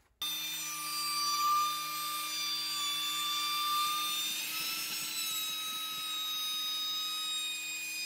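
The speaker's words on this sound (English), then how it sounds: "I'm going to use my router with a rabbeting bit in here." A router with a rabbeting bit cuts a rabbet in wood, producing a loud, sustained high-pitched whine with steady tonal overtones and a slight dip as the bit bites into the workpiece, with no talking.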